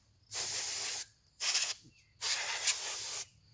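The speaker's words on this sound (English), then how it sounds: "Get some compressed air to spray out your drone." Three bursts of hissing compressed air sprayed from a can to clean a drone, the first and last longer, the middle one short, close and fairly loud against a quiet background.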